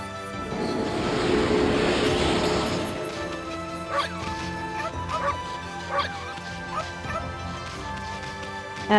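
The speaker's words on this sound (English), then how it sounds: "Big scary dog, scared by a little bark" A dog barks in the Okami video game: a loud crashing scuffle first, then a run of sharp yipping barks and whimpers over a steady game music backdrop.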